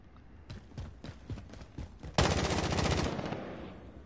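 Gunfire in the video game A Way Out: a string of separate sharp shots, then a loud rapid burst of automatic fire that runs for about a second before tailing off.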